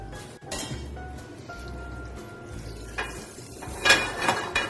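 Baby spinach dropped into a pan of melted oil and butter, with soft sizzling and clinking of utensils against cookware, fairly quiet and close, a few sharper scrapes near the end.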